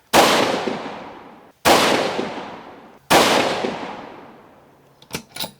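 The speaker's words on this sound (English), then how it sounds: "Why don't you shoot the last 3 of those rounds and see if you can put down a nice tight three-shot group" A 6mm Creedmoor Howa 1500 rifle fires three sharp, loud shots at even intervals of about a second and a half. Each crack rings out and fades into a long echo, followed by a few faint mechanical clicks.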